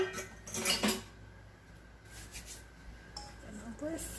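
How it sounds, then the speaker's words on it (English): A metal whisk and utensils clink and rattle in a kitchen while pizza crust batter is prepared, a few sharp close clatters early on, then quieter scattered taps, with a person talking in between. "Get our whisk."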